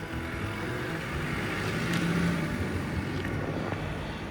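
An Audi Q5 SUV on the move, a steady, smooth engine and road rumble heard from inside the cabin, continuous and moderately loud with no voices.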